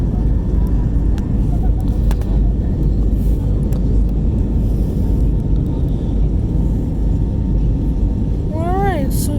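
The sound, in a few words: Frontier Airlines Airbus A320neo taking off, cabin engine roar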